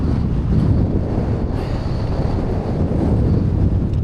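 Strong, steady wind blows across an open fell hillside on a hike, buffeting the microphone with a loud continuous low rumble and rush for the whole stretch, with no voices.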